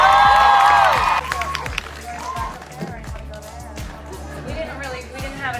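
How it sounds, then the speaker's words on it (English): Studio audience applauding and cheering for two guests, Sadie and Dylan, a dense wash of clapping with whoops that swells loud at first and then settles into steady, slightly softer applause with some voices underneath. "Round of applause for Sadie and Dylan."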